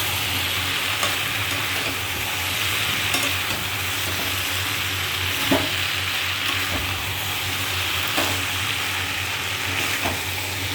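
A vegetable curry being sautéed in a pan over low gas heat gives a steady sizzle, broken every second or so by the scrape and knock of a stirring spoon.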